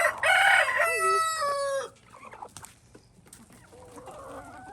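A backyard chicken flock with a rooster crowing loudly and close, a long drawn-out call followed by softer, scattered clucking from the hens.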